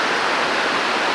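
A waterfall at The Hermitage, Dunkeld roars as a steady, dense, hissing rush of falling water. It is loud and continuous, with no voices.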